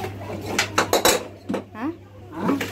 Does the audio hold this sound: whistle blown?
no